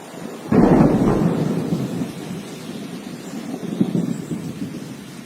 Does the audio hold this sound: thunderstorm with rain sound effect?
yes